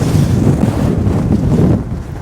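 Strong wind blasts across a microphone on the summit of Glaramara, a loud, rumbling gusty roar that eases slightly near the end, with no speech.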